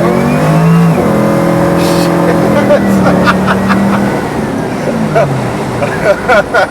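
A 1964 Oldsmobile F-85 Cutlass muscle car accelerates hard from a rolling start, its engine note climbing steadily in pitch and loud close by, with brief wheelspin, then fading as voices talk over it.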